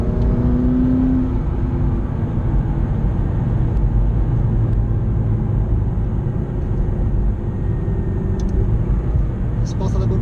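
A McLaren 650S accelerates hard through second gear, its engine revving quickly with a rising whine inside the cabin, while someone talks over the steady engine roar.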